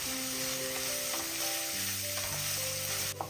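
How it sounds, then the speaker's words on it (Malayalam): Ginger and garlic sizzle steadily in a pan over medium flame while being stirred, a continuous close frying hiss with a faint clink near the end and no talking. "ഇനി ഇഞ്ചിയുടെയും വെളുത്തുള്ളിയുടെയും ആ പച്ച ടേസ്റ്റ് ഒന്ന് മാറുന്ന വരെ ഒരു 10 സെക്കൻഡ് ഇളക്കി കൊടുക്കുക"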